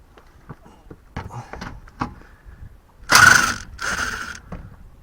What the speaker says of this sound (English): there's a bolt right there I gotta take out